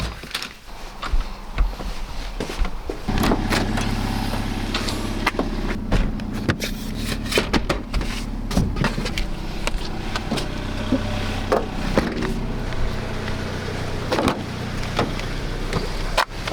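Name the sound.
car being loaded and driven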